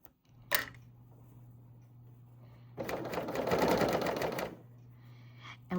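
A serger sewing machine stitching fabric runs in one fast, steady whirring burst of about two seconds, close and fairly loud, with a brief clack before it and a low hum underneath, no talking.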